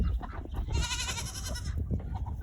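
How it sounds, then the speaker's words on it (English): A single goat bleats once, a fairly mild, wavering call lasting about a second, close and clear over low rumbling background noise. "He is the only goat that doesn't have a terrible sounding bleat."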